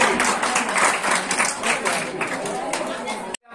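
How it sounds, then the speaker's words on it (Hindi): A school quiz competition audience claps loudly and continuously for all the groups. The dense applause mixes with crowd chatter, then cuts off abruptly at the end. "तो जोरदार तालियां हैं सबके लिए"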